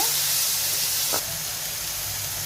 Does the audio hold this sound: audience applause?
no